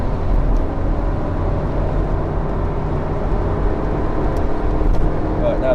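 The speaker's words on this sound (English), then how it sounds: "now the car sounds like it's massively over revving" A Honda Jazz Crosstar engine over-revs while driving, producing a steady, loud, low droning roar with road noise inside the cabin.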